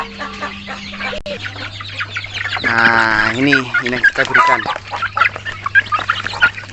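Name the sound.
chickens clucking while being fed fermented rice bran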